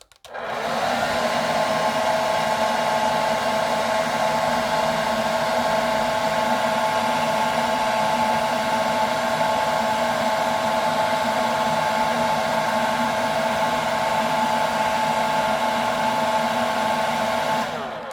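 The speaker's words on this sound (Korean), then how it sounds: "뚜껑을 열고 드라이기 차가운 바람을 약 20초 정도 넣어주도록 하겠습니다" A hair dryer on its cold setting blows steadily into an open container for a science experiment, a loud continuous whir with no change in pitch that runs unbroken for the full length, with no speech.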